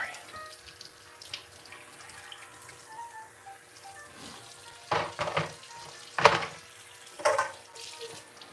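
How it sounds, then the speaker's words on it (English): Fruit is rinsed under a running kitchen tap, with water hissing and splashing as the fruit is handled and turned, growing louder in several bursts toward the end. "Okay, rinse these off."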